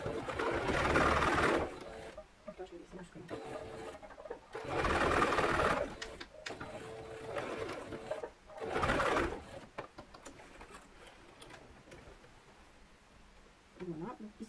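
Sewing machine stitching a reversible fabric pot, running in short bursts of a few seconds each separated by pauses, with someone speaking French quietly between runs.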